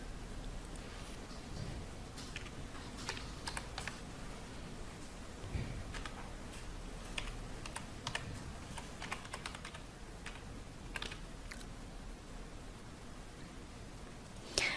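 Steady run of computer keyboard typing, quick uneven keystrokes close up and moderately loud, continuing alone without any talk.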